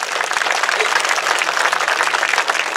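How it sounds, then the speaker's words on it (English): A graduation audience claps steadily and loudly throughout, a dense, continuous wash of applause with no speech over it. "And that right there deserves a round of applause."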